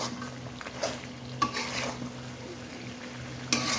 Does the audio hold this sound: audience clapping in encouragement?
no